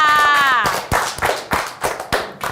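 Students in a primary school math class clapping for a classmate, a few close, loosely rhythmic claps following a teacher's voice at the start.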